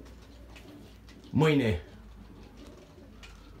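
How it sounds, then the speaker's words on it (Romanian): Pigeons in a racing loft during recovery after a long-distance race give a single loud, close coo over a low hum of the loft, with a brief spoken word nearby. "porumbeii acum sunt la recuperare"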